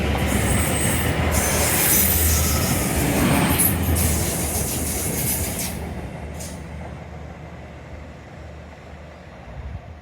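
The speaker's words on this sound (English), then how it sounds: "Hello, other train." A train passes close by, its loud rumbling and rail noise filling the air before gradually fading into the distance.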